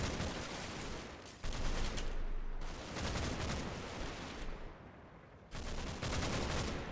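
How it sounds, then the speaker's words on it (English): Rapid automatic gunfire rattles in dense bursts from a foxhole position in the WWII game Combat Mission: Battle for Normandy, with sustained volleys broken by a brief lull before firing resumes loudly. "And there's definitely some automatic fire in there."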